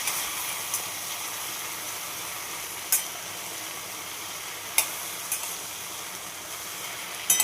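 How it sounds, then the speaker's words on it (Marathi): Mixed vegetables sautéing in a pan give a steady, quiet sizzle with a few sharp clicks of stirring spaced through it, close by and without talk. "सगळ्या ह्या मिक्स भाज्या आहेत त्या टाकल्या. छान परतून घ्यायचं."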